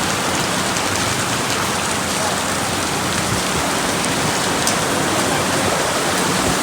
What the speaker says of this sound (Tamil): ரொம்ப ரொம்ப ரொம்ப மழையாக இருக்குது.